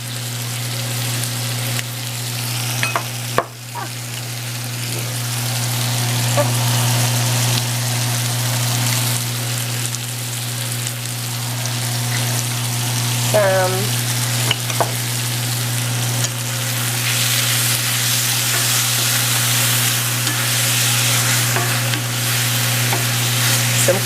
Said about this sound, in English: I'm just going to allow that to saute